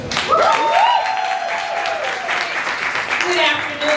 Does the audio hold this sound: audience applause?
yes